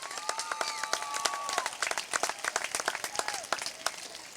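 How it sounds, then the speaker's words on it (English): Audience applause for the teachers and school staff at a 2015 middle school graduation ceremony, steady claps across the whole stretch, with whistles and cheering voices over them. "Now let's give them a big round of applause."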